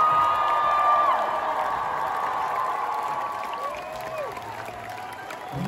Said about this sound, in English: just give them a round of applause right now